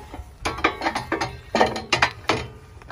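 Cranking a manual toe board lift on a Hardwood Mills sawmill, a close ratcheting clatter of quick uneven clicks in short bursts as the logs rise.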